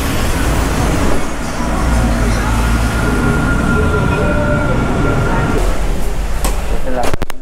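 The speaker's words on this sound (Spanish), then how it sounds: "allá viene mi tranvía, me va a llevar al centro" A tram in Cuenca, Ecuador rolls in with a loud, continuous rumble and steady mechanical noise, the sound building and rattling close by as it pulls into the stop.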